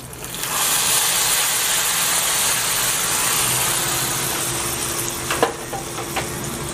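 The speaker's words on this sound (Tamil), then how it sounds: "நல்லா தாளிச்சிட்டோம், அதை இதோட சேர்த்துடலாம்" Curry leaves hiss in a hot oil tempering poured into a pumpkin mor kulambu, a loud, steady sizzle that starts abruptly and holds throughout, with a few metallic clinks of a utensil near the end.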